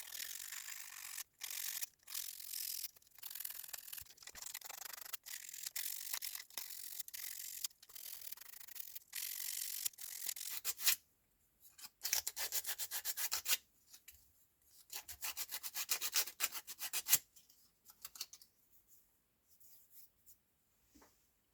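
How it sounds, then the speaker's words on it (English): Rapid, steady rasping of sandpaper scrubbing the plastic frame of a BetaFPV Pavo Pico drone, close up, in bursts with short pauses between strokes. "first step for better adhesion, we need to scrub this area"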